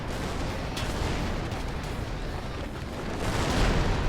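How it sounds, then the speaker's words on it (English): Massed gunfire and artillery from the Total Tank Simulator video game, a dense, loud, continuous roar of overlapping shots and booms with no pauses, growing heavier toward the end. "Just charging a mass of gunfire."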